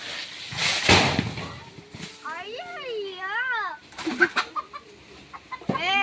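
Chickens clucking and squawking nearby in a few bursts, with a voice and other talk around them.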